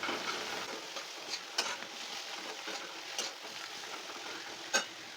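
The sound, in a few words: bitter gourd (uchhe) frying on medium heat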